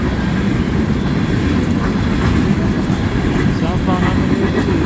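CN freight train U759, with locomotive 3223, rolls past at Ladysmith in a dense, continuous low rumble that stays loud and close throughout.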